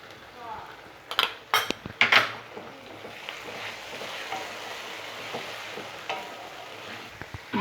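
Tomatoes for chicken masala sizzle and fry in a pan, opened by a few loud metallic clanks and scrapes of a spoon against the pan, then a steady softer frying hiss with occasional stirring strokes.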